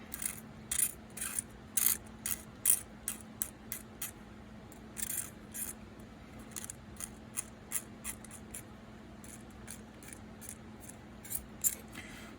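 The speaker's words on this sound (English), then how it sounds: "this is just good old-fashioned using the number 11 blade to scrape" A number 11 hobby blade scrapes hard putty on a plastic model trailer kit, making a close, steady series of sharp, crisp scratching strokes at a regular pace, with no talking.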